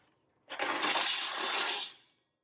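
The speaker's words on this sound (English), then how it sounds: "And we're just gonna pour these in and cover it with liquid." Dry noodles pour into an Instant Pot in one continuous rushing burst lasting about a second and a half, with a broad hissing, rattling wash and a tiny clink at the end; no talk.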